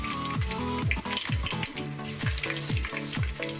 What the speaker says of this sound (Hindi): और इसे उस टाइम तक मैं फ्राई करूंगी थोड़ी सी गोल्डन कलर जब तक इसमें ना आए।